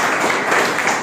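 Outdoor crowd of young people at a street interview about the Lok Sabha elections claps in a dense, continuous burst, loud and close, over about a second.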